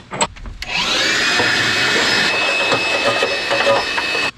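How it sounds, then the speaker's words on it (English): A shop vacuum starts up and whines steadily while sucking metal drill chips out of a Toyota Tacoma truck bed, loud and close, with rattling clicks of chips rushing through the hose before it cuts off. "We will take all of this back off and vacuum chips up."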